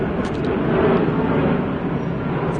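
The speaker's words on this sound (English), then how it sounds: "airplane" An airplane passes over an urban Sydney neighbourhood near Marrickville on an early-morning walk, a loud, steady broadband roar filling the whole stretch with no talk over it.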